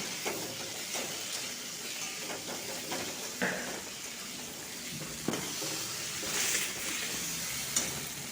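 Spice paste with chilli being sautéed for a fish roe curry, a low steady sizzle and hiss with occasional soft stirring scrapes, fairly quiet and close.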